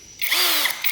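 MLHY brushless cordless hammer drill drilling, a short loud high whirring burst that starts abruptly and holds steady for under a second, heard alone.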